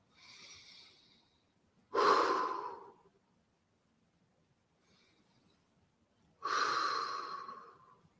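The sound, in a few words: long deep breathing exercise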